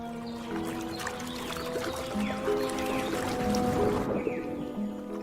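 Water splashing and trickling among mangroves, soft intermittent sloshes and drips at low level, layered with scattered bird calls and chirps in the background.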